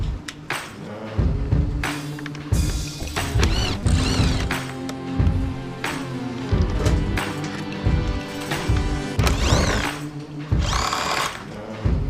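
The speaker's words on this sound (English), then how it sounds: "We're going to be removing the bolt that holds the blinker" A 7/16 Allen wrench works the bolt holding a blinker on a 2020 Harley, giving close, loud clicks, clanks and ratcheting metal knocks in uneven bursts.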